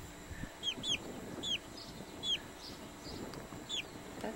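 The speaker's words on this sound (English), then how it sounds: "Okay, that's chicken." A pet chicken clucks in short, sharp bursts, about six or seven fairly close calls spaced across a few seconds against a quiet room background with no talking.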